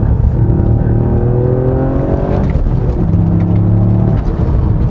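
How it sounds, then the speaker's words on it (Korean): A Toyota GR Yaris engine on a winding mountain road revs up through the gears, a loud, close, steady drone with rising pitch, a brief break for a shift, then climbing again under heavy road rumble. "회전수를 올려갈 때 주변의 공기를 확 빨아들이는 그런 느낌이 확실히 줍니다"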